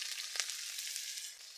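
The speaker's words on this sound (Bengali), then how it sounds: "শুকনো লঙ্কা দিয়ে দিলাম, পেঁয়াজ দিয়ে দিয়েছি, কেটে রাখা আলু দিয়ে দিচ্ছি।" Chopped potatoes, onion and dried red chilli fry in oil in a kadai, giving a brief, even hiss of sizzling with one small pop, close and steady.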